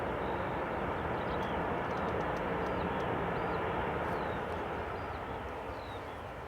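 Steady broadband jet engine roar of an EasyJet airliner taxiing and rolling onto the runway at Newcastle Airport, continuous and fairly close, with a faint high whine on top and no talk.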